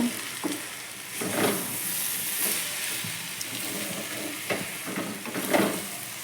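Stirring fried spice mix into fish-head cabbage in a pan, with a steady sizzle and a few louder scraping strokes spread across the clip, close and alone, no voices.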